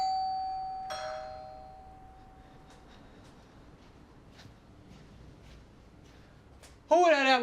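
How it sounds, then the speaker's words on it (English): A doorbell rings with a clear tone at the start, followed by a quiet stretch of faint knocks and taps before a voice breaks in loudly at the end. "Who rang my doorbell?"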